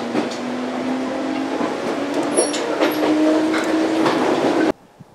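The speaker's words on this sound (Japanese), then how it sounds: "関東地方ではすっかり数が少なくなった205系電車、出発するシーンです。" A 205 series electric train pulls away nearby, its motor whine rising steadily in pitch over rumbling wheels, then the sound cuts off abruptly near the end.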